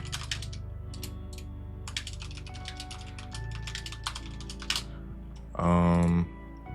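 Keys tapped on a computer keyboard to type a web search, a quick irregular run of light clicks over steady background sound, ending in a brief louder tonal burst.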